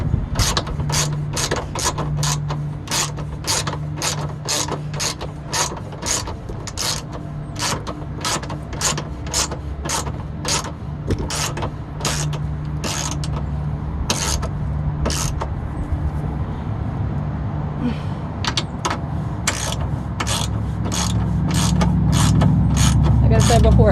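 A ratchet wrench tightens the rear sway bar bushing bolts on a 2003 Honda Element EX, a long run of sharp evenly spaced clicks that ends in a steadier mechanical whir.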